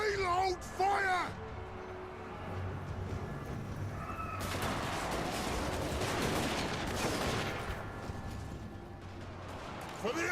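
Dwarf Thunderers fire their guns in a fantasy video game battle, a dense crackle of gunfire volleys with a sharp burst midway, while voices shout over the din.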